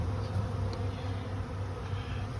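Honeybees buzz close by around a trap-out box, a dense, continuous hum of many wings with no talking.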